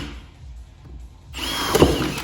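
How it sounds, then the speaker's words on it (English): A power drill bores holes in a jig after a quiet stretch, its whine rising and grinding loudly and close for about a second, with no talk. "You're going to want to take a drill bit and drill each one of these holes out"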